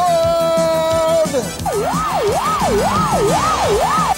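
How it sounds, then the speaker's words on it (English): A police car siren wails in a steady rising-and-falling cycle, loud and close, after a brief higher tone cuts off. "And there goes a police car."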